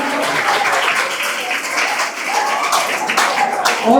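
Applause welcoming the chairman at a school event, a sustained crowd of students clapping at moderate loudness throughout, with a faint voice beneath.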